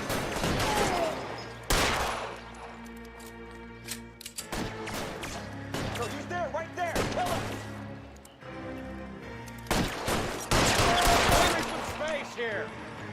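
Repeated gunfire bursts from a shootout in the video game L.A. Noire, loud sharp shots and volleys scattered through the clip alongside crashes and a steady background hum, with people talking over the action.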